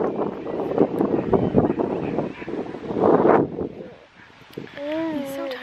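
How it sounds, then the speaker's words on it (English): Strong wind buffets a microphone outdoors on a windy day near a dog park, loud gusting rumbles that swell and fade, with a voice talking through them and a brief whistle-like tone at the end. "It's probably really windy."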